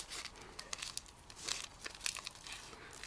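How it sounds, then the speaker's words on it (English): Craft paper layers for a door hanger being crumpled and rolled by hand, a steady run of dry crinkling and crackling with sharper crunches scattered throughout, close and fairly quiet, with no talk. "we may want to crumple this just a little bit and make it a little easier to work with"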